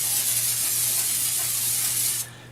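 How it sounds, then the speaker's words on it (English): Cooking spray hisses from a can into a 9x5 loaf pan in one steady close burst lasting about two seconds, then cuts off abruptly. "We're just going to give it a quick spray."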